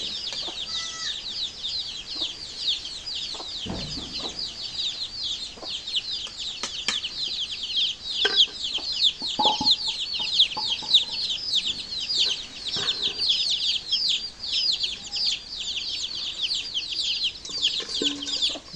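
Chickens cluck continuously nearby, a dense overlapping chatter of several birds, with occasional thumps and rustling in the background.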